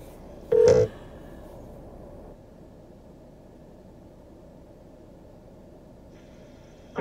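A single short burst of touch-tone telephone keypad dialing sounds over a faint hiss on a phone line answering an automated menu, followed by near silence with light line noise.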